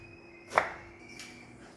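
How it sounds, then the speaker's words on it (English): A knife chops an eggplant into cubes on a cutting board, giving one quiet sharp cut followed by a fainter second one in a calm kitchen. "So I'm gonna cut my eggplant into cubes."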